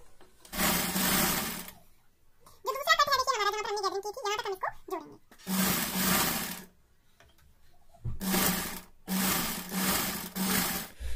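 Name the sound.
sewing machine stitching a newborn baby cap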